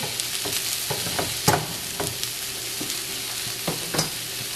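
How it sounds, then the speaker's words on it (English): Fresh garlic sizzles in a skillet, a steady close frying hiss broken by several sharp scrapes and taps of a utensil stirring it around. "Get your fresh garlic into your skillet."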